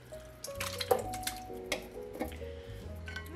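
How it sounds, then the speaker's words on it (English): Thick, wet glugging and dripping as chunky canned contents with their juice slide out and splash into a soup pot, with irregular plops and metallic ticks. "We're gonna pour this whole can in,"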